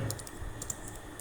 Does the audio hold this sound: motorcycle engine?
no